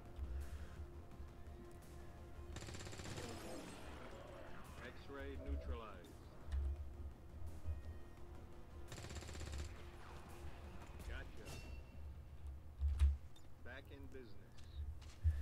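Bursts of gunfire from the turn-based strategy game XCOM 2, played in a legendary ironman co-op run, crackling over a steady game soundtrack and ambient hum, with busier volleys partway through and again later.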